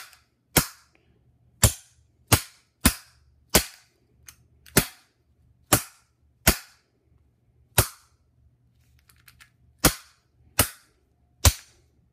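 A kinetic bypass tool strikes a Master 175 padlock about a dozen times, each hit a sharp, loud metallic snap, spaced irregularly with short quiet gaps between.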